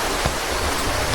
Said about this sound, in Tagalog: huwag nang lalakas ang ulan